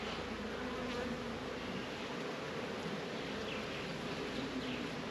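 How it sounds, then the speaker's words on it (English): A dense, steady hum of many honeybees buzzing together in a hive, quiet and continuous throughout with no voices. "So we're gonna gently move the bees around"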